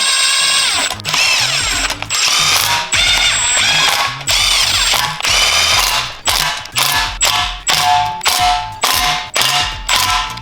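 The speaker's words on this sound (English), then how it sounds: "I'm gonna torque these to 16 foot-pounds also." A tool tightens the oil pump bolts on a K24 engine in a close series of loud, whirring bursts, each cut short, with the bursts getting shorter and more clipped toward the end.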